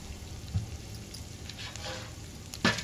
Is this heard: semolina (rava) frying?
yes